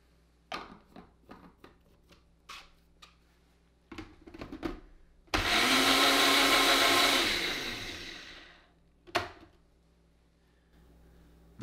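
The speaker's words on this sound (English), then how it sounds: "we're going to use this blender to really mash things up" After a few sharp clatters and taps, a blender roars to life for about three seconds to mash chewed-up food with acid for a stomach model, then winds down, followed by more handling noises.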